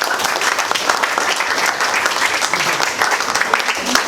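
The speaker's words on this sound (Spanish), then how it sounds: "un fuerte aplauso para los" Dense, sustained applause from an audience at an academic ceremony fills the room loudly and evenly throughout, with no break or talking over it.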